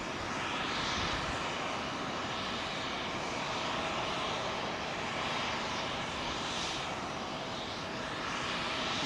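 Lufthansa Boeing 747 engines roar continuously at close range, a broad, heavy rumble with faint rising and falling whines sweeping through it for about nine seconds.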